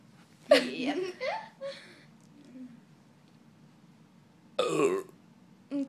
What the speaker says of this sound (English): We're just gonna do like a couple more because it's 4 minutes of burping.